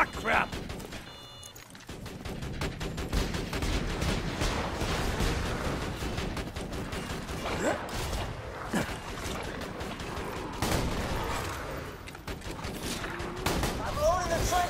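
Sentry gun in Borderlands 2 opening fire in a frantic firefight. A dense, continuous stream of gunshots and crashing impacts runs the whole time, mixed with shouting voices and game sounds.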